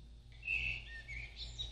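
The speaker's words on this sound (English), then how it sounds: "There's birds singing." Birdsong alarm from a Gear4 Renew AM/FM clock radio plays soft, thin chirps and trills at low volume over a steady room hum.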